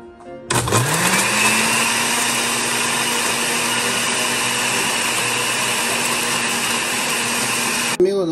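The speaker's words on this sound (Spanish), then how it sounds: "aquí vamos a estar moliendo todos los ingredientes en la licuadora" A blender whirs on abruptly and runs at a steady high-pitched grind for several seconds, loud and close, then cuts off.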